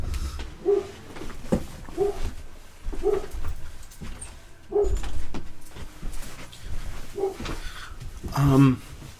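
A dog barks indoors in short, repeated bursts spread through the clip, interspersed with talk and room noise, ending in a louder cluster of barks.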